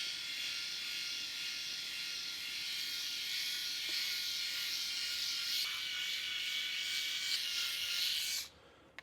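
An electric shaver buzzes steadily as it shaves a head, a close, continuous high-pitched whir that holds for about eight seconds before cutting off abruptly near the end.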